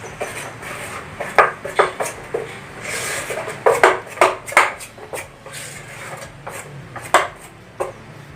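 Idli batter is mixed in a pot, with repeated scraping and knocking of a utensil against the pot's sides in an irregular rhythm, close and fairly loud.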